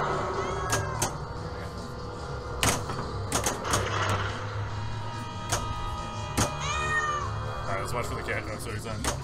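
A meow sound effect plays on a 2017 Heighway Pinball Alien machine amid busy gameplay noise, clicks and electronic tones, with a player talking over it.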